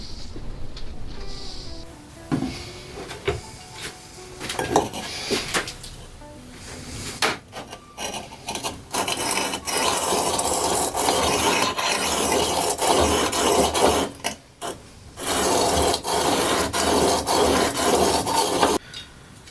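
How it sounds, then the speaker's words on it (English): A plane blade is ground to a bevel on a Stanley sharpening system, giving sustained raspy scraping strokes that start and stop over about twenty seconds, loud and close. "I've got to grind right the way through that until the entire blade's at that angle"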